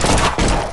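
A gunshot from a cowboy shooting video game, one broad loud blast with a brief dip and a second burst, sounding close and filling the whole short moment with no talk.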